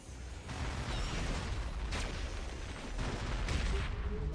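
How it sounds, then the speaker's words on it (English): Iron Man launching a barrage of missiles in the Marvel Heroes video game, a dense run of bursting blasts and explosions with several sharper impacts, steady and fairly loud without talk. "And a whole bunch of missiles in the face."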